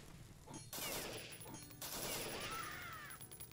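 Gunfire in a blind playthrough of the video game The Citadel, with a couple of loud dense bursts of shots separated by a short lull amid game ambience.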